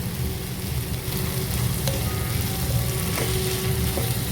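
Slit green chillies fry in hot oil for egg mappas, a steady close sizzle and crackle running without a break, with a few faint thin pops and no voices.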